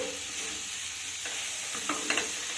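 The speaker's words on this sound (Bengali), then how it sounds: "সুন্দরভাবে মিশিয়ে দিলাম" Soft greens and eggplant frying in a pan sizzle steadily while a spoon stirs them, giving a few scraping strokes near the end over the constant close hiss.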